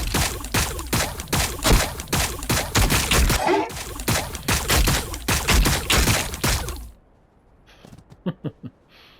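Rapid bursts of gunfire from the Warhammer 40K Battlesector video game, a dense run of sharp repeated shots that stops abruptly, followed by quiet with a few faint clicks.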